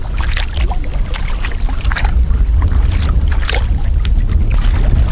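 Kayak paddling on a river in strong wind: loud, constant wind buffeting on the microphone mixed with rushing water and repeated paddle splashes and strokes, with no talking.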